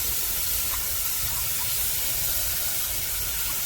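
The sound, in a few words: sizzling syrup caramelizing on the stove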